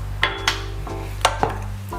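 Sugar, butter and shortening being stirred in a mixing bowl produce a few sharp utensil knocks and scrapes against the bowl, spaced irregularly over a low steady hum, with no talking.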